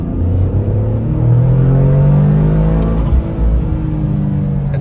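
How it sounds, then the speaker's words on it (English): A 2023 Toyota GR Corolla pulls hard in second gear, heard from inside the cabin with the windows closed. The engine note rises steadily, with a brief break late in the pull. "I think you could hear the blow-off valve there, even with the windows closed."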